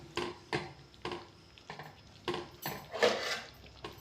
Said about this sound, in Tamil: பாசிப்பருப்போட ரவையும் சேர்த்து நல்லா மிக்ஸ் பண்ணியாச்சு